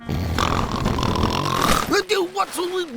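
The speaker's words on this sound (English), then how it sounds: "Just Grandpa Pig snoring." Grandpa Pig, a cartoon pig, snores loudly and close up with rumbling, snorting breaths, heard as a long drawn inhale followed by rhythmic snuffling gusts.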